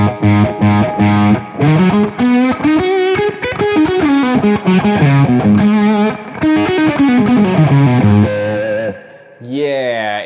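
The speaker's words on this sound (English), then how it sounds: "almost like a fuzz built in, but that's actually kind of a cool sound" A Tech 21 Trademark 60 guitar amp with the gain turned up gives a thick, fuzz-like distorted tone: loud, sustained chords and bends ring out alone for about nine seconds, ending in a brief squealing slide.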